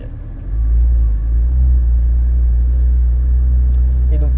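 A Porsche 992 GT3 RS pulls away on track, its engine settling into a steady loud low rumble after a brief quieter start, heard from inside the car.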